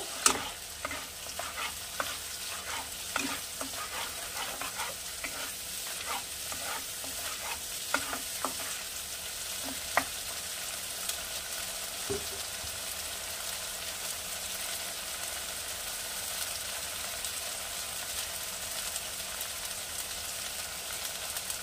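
Ginger garlic paste fries in a pan for a Bengali boal fish curry, a steady close hiss broken by rapid spoon-scraping stirs early on that fade to an even sizzle.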